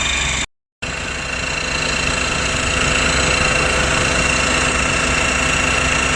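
A 12-volt, 5-ton electric car jack hums steadily as it raises a car wheel, a continuous motor drone with a brief cut of silence near the start, then a loud, even whine.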